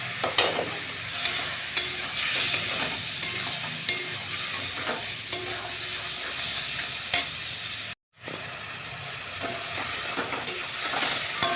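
Potatoes and tomatoes being stir-fried in a pan with a little added water, giving a steady sizzle with repeated scraping strokes of a spatula, close and continuous, cut by a brief silent gap near the end.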